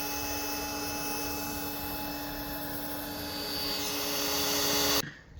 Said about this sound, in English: now what we're going to do is re-inflate it and then put the straps on